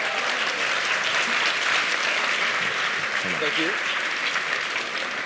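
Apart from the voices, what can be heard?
audience applause for magic show volunteers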